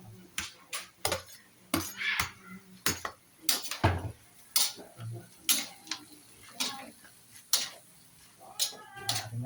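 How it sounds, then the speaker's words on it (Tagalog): Eggplant being added to a pot of pakbet, a run of clinks, knocks and utensil taps against the pot at irregular intervals, close and fairly loud, with a few faint voice sounds. "Lagyan na natin itong talong."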